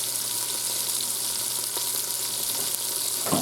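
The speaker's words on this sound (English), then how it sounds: "I'm going to let that continue to brown off" Floured steak browning in hot oil inside an Instant Pot, a steady dense sizzle and crackle continuing throughout with a brief stir or scrape near the end.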